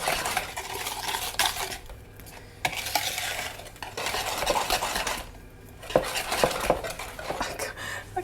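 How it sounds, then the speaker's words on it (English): A whisk clatters briskly against a bowl while beating a lumpy cheese mixture, with rapid metallic scraping in uneven bursts and a couple of short pauses. "I'm going to go and whisk it and then I'll come back."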